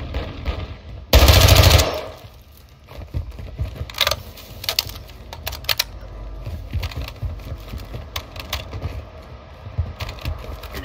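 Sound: full-auto gunfire in the video game Warzone

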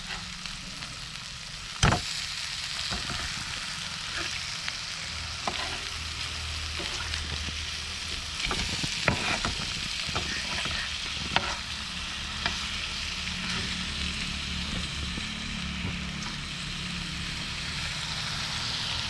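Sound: fish pieces frying in a pan, road-side fish fry

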